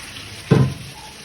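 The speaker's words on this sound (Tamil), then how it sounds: "ஸோ நான் the time to add salt water add பண்ணுறேன்" Salt water poured into a hot cooking pot of simmering food gives a single brief sizzling splash lasting a fraction of a second, then the quiet kitchen background returns.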